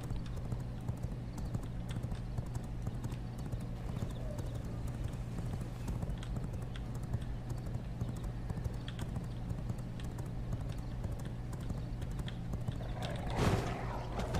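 Horse galloping in the V Rising video game, a steady quiet clip-clop of hooves running continuously under faint game ambience, with a short louder burst near the end.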